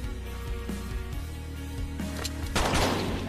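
Gunfire in the Tactical Assault VR game during close-quarters combat, a few sharp shots over a low droning background, no talk.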